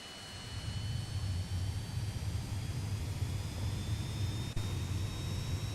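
Twin jet engines of a FlightFX Citation C750 idling in Microsoft Flight Simulator, heard from outside the aircraft as a steady, faint whine and broadband rush with no talk.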